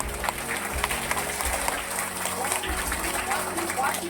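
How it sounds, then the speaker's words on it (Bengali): A group of children claps hard at a community gathering, a dense patter of hand claps mixed with chatter and voices throughout. "সবাই একটা হাততালি হয়ে যাক জোরে।"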